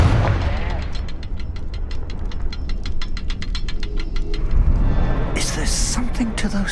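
Confringo fire-blasting spell in Hogwarts Legacy: a rumbling explosive burst overlaid with a fast, regular crackling pulse of impacts, ending in a bright hissing flare, fairly loud and close.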